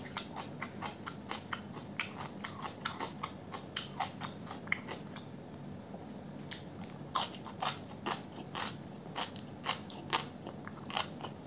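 Crunchy greens served with pancit canton and chicken adobo are bitten and chewed close to the microphone, giving repeated sharp crisp crunches over a quiet background with no talk.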